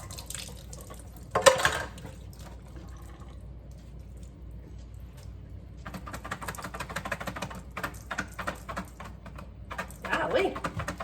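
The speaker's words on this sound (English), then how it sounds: "Fill the can up with water and use it to rinse the beans." Water splashes and trickles into a can as canned beans are rinsed, in two bursts with a quieter gap between, while a person talks at times.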